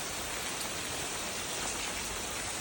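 Dense, loud rain pours down in a continuous hiss with no pauses.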